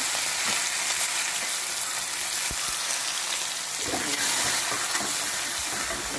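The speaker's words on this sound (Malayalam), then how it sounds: "അതിലേക്ക് ഉള്ളി കുത്തിച്ച് കൊടുക്കുകയാണ്. ഉള്ളി നല്ലോണം ഒന്ന് പൊരിയട്ടെ." Steady, loud sizzling of onions frying in a hot pan, with occasional scraping and stirring knocks, no voices.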